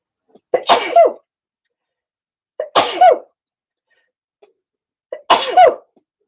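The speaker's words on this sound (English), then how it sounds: "About to sneeze." Three sharp, noisy sneezes, each a quick breathy intake followed by an explosive release, spaced a couple of seconds apart with silence between, close to the listener.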